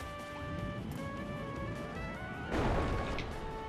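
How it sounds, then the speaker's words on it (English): A muffled in-game explosion from Kirby with Bandana Waddle Dee booms midway through, rising over a bed of bright synth music and game effects. "why would I take damage from an explosion?"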